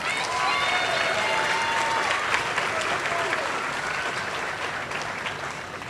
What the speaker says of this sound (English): Please give a round of applause to Mackenzie.